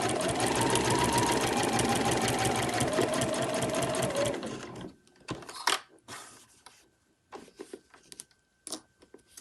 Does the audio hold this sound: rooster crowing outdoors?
no